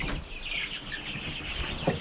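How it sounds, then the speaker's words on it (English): Pekin and white-crested ducks in a pen give soft, scattered calls and rustling wing flaps, a busy low farmyard murmur with a few brief louder squawks. "these right here are our Pekin and white-crested ducks"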